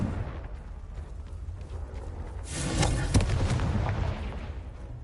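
Confringo fire spell explosions in Hogwarts Legacy, a booming burst swelling up around the midpoint and fading over a steady low game rumble, with no talking.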